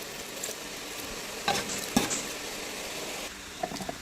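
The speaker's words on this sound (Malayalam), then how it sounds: "ഇനി നമ്മുടെ ചിക്കനൊക്കെ ഇടയ്ക്ക് ഇങ്ങനെ ഇളക്കിയിട്ട് നന്നായിട്ട് ഗോൾഡൻ കളർ ആക്കി എടുക്കണേ" Chicken fries in a pan with a soft sizzle under scraping stirs, and a few short clatters and scrapes stand out in a quiet, close setting.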